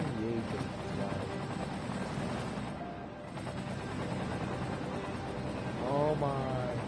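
A dense, steady roar of many helicopters in flight fills the scene, rotor thrum constant and loud, with a brief dip midway and some whistling tones and rattling bursts near the end.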